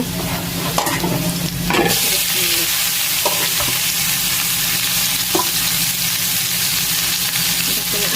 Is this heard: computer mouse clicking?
no